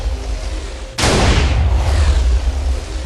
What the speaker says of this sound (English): Big world of TNT. Infinite explosion.